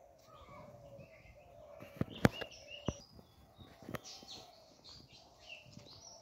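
Birds calling close by in quiet rural countryside, with scattered chirps and a few sharp, brief calls over a low, soft background.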